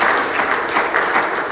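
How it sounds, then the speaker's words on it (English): A church congregation claps together in a brief, dense burst of applause, a steady loud patter of many hands with no voices over it. "Let's clap our hands to him again"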